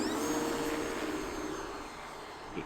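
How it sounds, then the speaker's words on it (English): An E-flite Turbo Timber Evolution 1.5 m RC plane on floats taxis for a takeoff on a breezy day. Its electric motor gives a steady, broad whir that fades gently over a few seconds. "Alright, let's do a takeoff."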